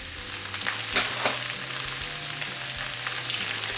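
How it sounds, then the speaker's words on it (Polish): Young spinach, about 150 grams, sizzles steadily in a hot frying pan, a dense continuous frying hiss with faint stirring clicks, close and alone without talk. "Tego szpinaku około 150 gramów. Przesmażamy chwilkę."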